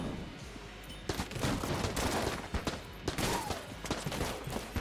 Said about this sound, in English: The Rattler is a very efficient weapon and I really like it